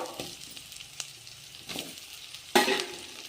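Sliced potatoes and onions with chillies frying in a pan for a rice dish, a quiet sizzle broken by a few scraping stirs and a louder burst of spatter toward the end, with no talking.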